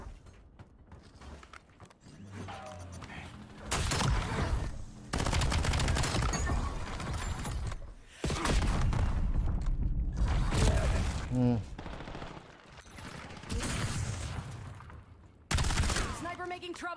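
Bursts of gunfire in a Call of Duty match, loud dense volleys of rapid shots in several separated waves, with quieter gaps between them and a voice speaking over parts of the action.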